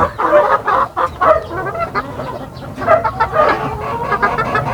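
Chickens and their chicks cluck and chirp in a continuous, close, busy chorus.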